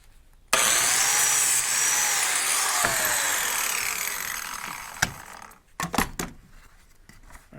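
A power tool cuts a biscuit slot in old redwood from a 30-year-old deck cabinet, giving one loud, steady whining cut of about five seconds that fades slightly, then a few sharp knocks and clatters of wood handling.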